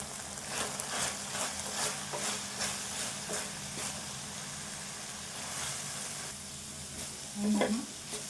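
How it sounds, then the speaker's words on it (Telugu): Okra (bhindi) fries in a pan with green chillies and red chilli powder, a loud close sizzle with rhythmic stirring scrapes throughout and a brief low rumble near the end. "బెండకాయ ఇట్లా ఫ్రై కావాలి ఇట్లా కావాలి"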